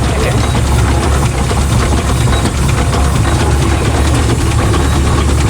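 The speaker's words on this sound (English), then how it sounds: "Second day in a row I've been driving a traction engine." A steam traction engine runs steadily at close range, its low, continuous chugging rumble and mechanical vibration filling the whole stretch without pause while it is being driven across a field.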